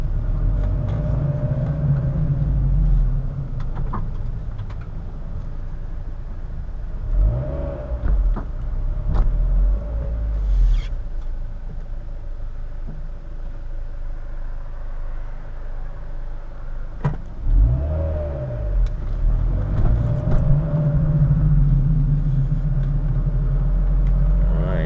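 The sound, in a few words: 2008 Mazda Miata MX-5 NC engine driving off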